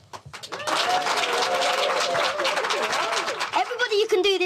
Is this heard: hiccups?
no